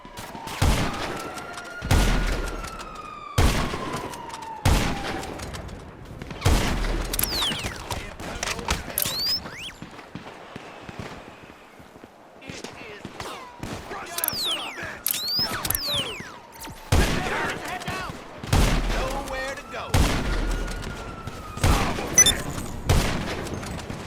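Gunfire in GTA 5 comes in repeated sharp bursts and single shots at close range, separated by short gaps, with mechanical clicks and clatter between the volleys.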